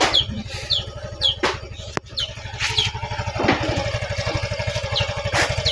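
An automatic motorcycle engine runs at a steady idle with a rapid, even putter, while roosters crow and birds call repeatedly in the background and a sharp click sounds once.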